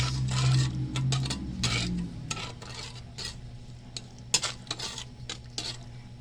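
Sugar is stirred in a sautéing pan with a utensil, giving close scraping and clinking strokes over a soft sizzle, louder at first and then settling into lighter, irregular taps.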